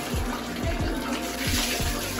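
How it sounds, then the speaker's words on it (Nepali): Water pours steadily from a tap during a hair wash outdoors, a loud continuous splashing rush with rhythmic low thumps repeating through it. "कपाल धुलाइहालौँ"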